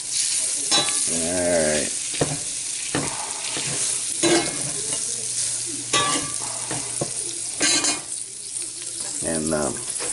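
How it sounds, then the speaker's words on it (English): Food sizzles steadily as it is stirred around a frying pan to coat it for a breakfast gravy base, with scraping stirs recurring over the continuous fry noise and a brief spoken word. "we stir it around. Get things coated up pretty good."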